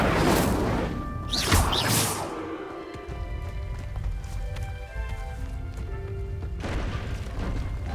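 In Hogwarts Legacy, an Incendio fire spell goes off with a loud whooshing boom near the start. A rumbling crackle lingers after it, and a second surge of noise rises near the end.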